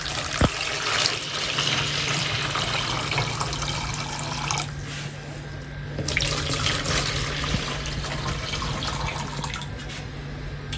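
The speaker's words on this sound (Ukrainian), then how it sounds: "Нам потрібно дві невеликі посудинки в першу чергу. Наляти теплої води." Warm water runs and pours steadily into small containers, a continuous splashing stream with a low hum underneath and a brief knock near the start.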